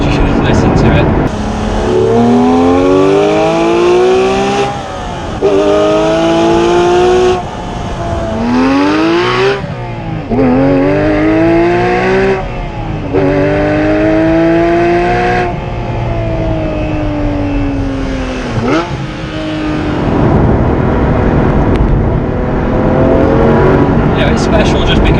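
A Porsche 997 GT3 RS 4.0 with its 4-litre flat-six, about 500 horsepower, screams through repeated hard acceleration runs on a lakeside track, rising in pitch with quick gear shifts, loud and close from inside the car.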